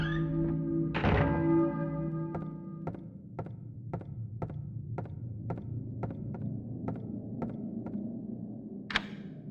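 Church bell tolling in the Silent Hill video game, a loud first strike followed by a steady, evenly spaced series of ringing hits over a low ambient drone, with no talking.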